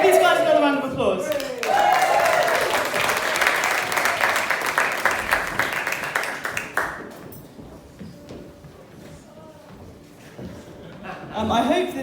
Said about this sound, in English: Give these guys another round of applause.